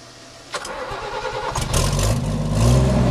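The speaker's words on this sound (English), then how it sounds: "Nice, very nice starting vehicle." A 1974 Toyota FJ55 Land Cruiser engine cranks and fires, then settles into a steady, rumbling idle that grows louder and fuller toward the end, heard close with no talking.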